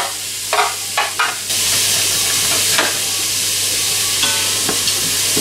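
Onions and garlic dropped into hot oil in an Instant Pot start a loud, steady sizzle after a few brief clatters, continuing alone with light stirring.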